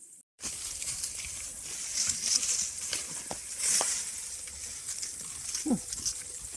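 Goats and lambs in a shepherd's flock bleat now and then over a constant outdoor hiss, with one clearer bleat close by near the end while a woman calls to them.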